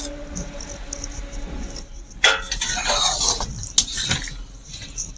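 A spoon scrapes and clinks inside a cooking pot of shukto with bori, fried bitter gourd and fried brinjal. Quiet at first, then a burst of close, busy stirring clatter in the second half.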